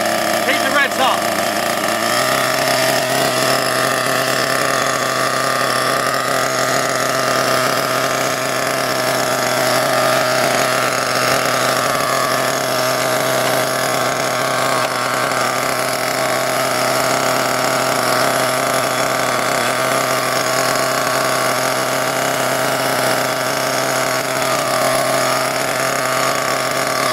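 Ansmann Virus 2.0 BigBlock RC car nitro engine after run-in, running steadily with a loud, continuous buzzing drone that holds a constant pitch throughout, with no pauses.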